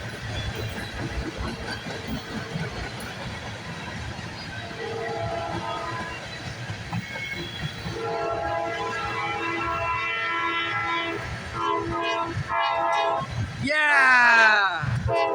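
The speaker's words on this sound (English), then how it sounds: "Heard another train coming." CSX freight train approaching and rolling past, a rising rumble with rhythmic clatter that builds toward the end, where a horn begins to sound; excited voices call out over it.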